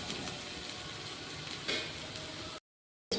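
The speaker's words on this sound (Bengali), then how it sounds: "পেঁয়াজটা হালকা গোলাপি করে ভেজে নিয়েছি।" Chopped onion frying in a pan with a little salt, a steady close hiss and crackle of sizzling oil, one brief louder burst partway through, then a sudden silent gap before it resumes.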